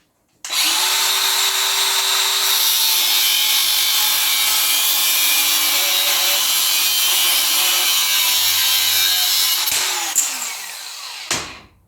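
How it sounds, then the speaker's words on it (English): An angle grinder with a very thin slitting disc cuts through a milling machine DRO scale on a Warco A2F mill, giving a loud, continuous high-pitched screech for about nine seconds before spinning down. "So the use of a grinder, nice and quick with a very thin slitting disc,"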